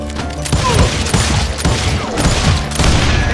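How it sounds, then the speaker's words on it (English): Rapid bursts of gunfire crackle and boom in quick succession, dense and loud, like a battle scene, in the video game Call of Juarez: Gunslinger. "Sounds like Garrett hired a whole regiment of guns"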